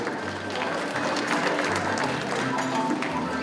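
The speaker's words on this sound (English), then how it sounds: "Y'all give her a round of applause again for me." Audience applause at a peanut festival queen's banquet, a steady patter of many hands clapping throughout, moderately loud and indoors.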